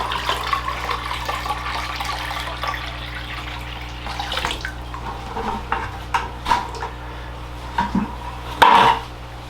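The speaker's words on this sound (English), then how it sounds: "With that water in now, we are about a ½ inch from the top of the glass." Water poured into a bonsai pot fish tank with front and back glass panels, splashing and trickling in short bursts, with light clinks of a container against glass and a steady low hum underneath.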